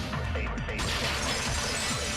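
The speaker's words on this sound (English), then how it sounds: "the girls heard the sound of the window shattering." Glass shattering in the video game Danganronpa 2, a bright crash with ringing fragments in the first moment, then a tinkling, resonant tail fading under a steady background.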